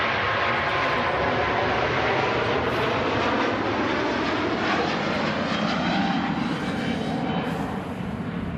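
Airbus A350 passing at Manchester Airport, a loud, broad jet engine roar that holds steady and shifts slightly in pitch as it goes by, heard from nearby outdoors.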